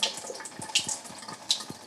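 A household tap with weak water pressure, running in a thin splashing stream into a sink with uneven gurgles and small drips, close by and alone.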